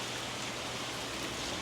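Rain falling outdoors, a dense, even hiss of drops spattering on surfaces, steady and close with no voices.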